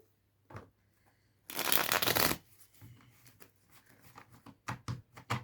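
A burst of oracle card shuffling, a quick riffling rush lasting about a second, then scattered soft taps and flicks of cards being handled.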